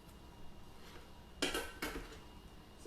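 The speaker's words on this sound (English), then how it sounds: "So we dump the cubes of butter in" Cold unsalted butter cubes drop into an empty Thermomix bowl with two quick, faint clattering knocks about half a second apart, close by and otherwise quiet.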